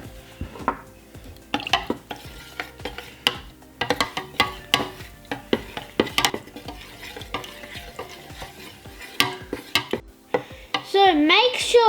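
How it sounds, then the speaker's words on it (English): Liquid hand sanitizer, gel dissolved in methylated spirits, is shaken and stirred inside a lidded plastic container, giving irregular sloshing knocks and rattles that are close and fairly loud, with a brief squeaky scrape at the end. "Now we're gonna put the lid back on and give it a mix."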